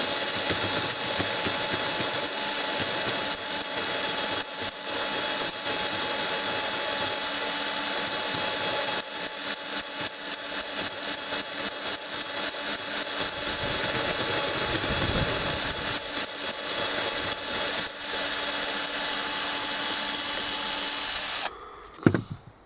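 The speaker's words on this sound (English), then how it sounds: "So what you have here is a high quality neck turning tool" A neck turning tool for cartridge cases spins on a lathe mandrel, giving a loud, steady motor whir with a fast rhythmic clicking through the middle. It cuts off abruptly just before the end, leaving a brief clatter.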